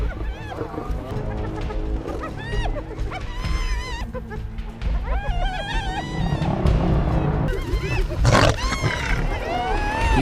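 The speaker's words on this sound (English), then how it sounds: "He roars, a deep frequency call that can travel over 5 miles, a summons for help." A lion roars during a fight with hyenas amid a chaotic wildlife clash, with a deep roar mixed among high yelping and whooping calls, loud and close, with a narrator talking over it.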